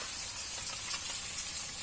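Pabda fish sizzling steadily in hot oil in a pan, a continuous bright frying hiss that stays even and close throughout, with no talk.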